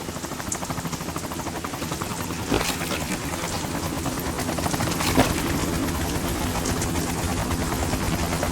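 Helicopter rotor chopping steadily and loud throughout a scene in Metal Gear Solid 2, with a couple of sharp bursts like gunfire cutting through near the middle.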